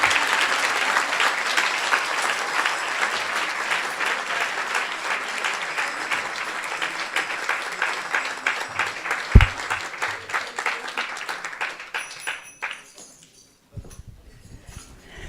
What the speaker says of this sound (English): I think we didn't get enough applause